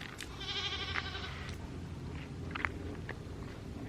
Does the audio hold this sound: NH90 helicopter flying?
no